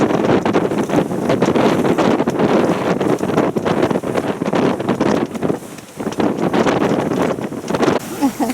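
Strong wind roars steadily across the microphone aboard a sailboat on a rough passage off Croatia in roughly 12-knot wind, loud and continuous with gusty fluctuations.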